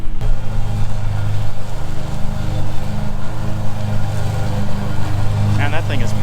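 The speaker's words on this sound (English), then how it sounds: "out here mowing with the Ferris, getting this ditch mowed up just perfect" A Ferris riding lawn mower cutting grass in a farm ditch, its engine droning loud and steady up close for the whole stretch, with a brief chirp of another sound near the end.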